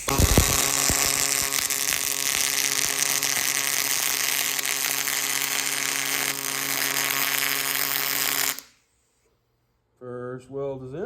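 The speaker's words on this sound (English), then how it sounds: "First weld is in." Steady, loud crackling buzz of an arc welder during a repair job, running continuously for about eight seconds before cutting off, followed by silence and then someone speaking.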